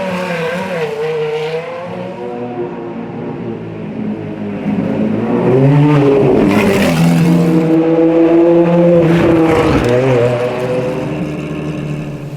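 Ferrari Formula 1 and FXX track cars with 8, 10 and 12-cylinder engines scream past at Imola circuit, loud high-revving engine notes rising and falling as cars accelerate and pass close by, alone without talk.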